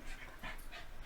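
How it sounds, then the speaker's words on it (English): A restless dog rolls around indoors, giving off soft, rapid panting in short breathy bursts that repeat steadily over a low background hum. "That's my dog making all this noise,"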